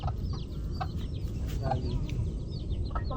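Chickens clucking nearby on a farm, several short clucks and soft chirps over a steady low rumble of background noise, with no talking.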